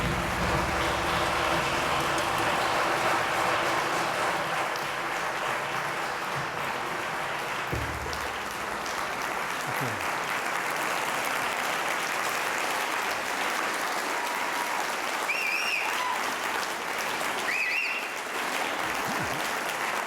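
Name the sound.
audience applause welcoming lecturer Wolf Kahn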